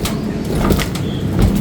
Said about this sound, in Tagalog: Binubugaw yung mga kalapati